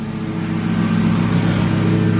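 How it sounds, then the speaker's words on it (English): A lawn mower engine drones steadily while cutting the lawn next door, a continuous mid-pitched motor hum that stays fairly loud and even throughout with no talk over it. "We're cutting the lawn next door."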